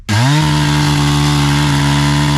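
A NEO-TEC NH872 71cc gas chainsaw, a Husqvarna clone, fires up and settles at once into a loud, close, steady two-stroke buzz with a rising pitch at the start and no voices.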